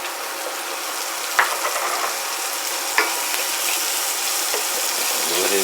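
Shallots stir-frying in a pan, a steady close sizzle with a couple of sharp scrapes as they are stirred.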